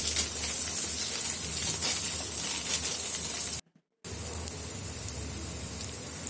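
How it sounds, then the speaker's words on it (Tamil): Ginger garlic paste sizzles with onions in a pan for a country chicken pepper dish, a steady, close hiss that cuts out briefly before carrying on. "இஞ்சி பூண்டு நல்ல பச்சை வாசனை போகிற அளவு வதக்கி எடுத்துக்கலாம்."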